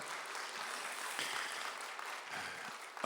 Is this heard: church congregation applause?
yes